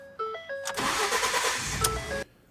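A 2013 Ford F150 truck engine cranks and catches on a new key, a loud broadband roar settling into a steady idle for about a second and a half before cutting off, with faint beeping chimes before and after.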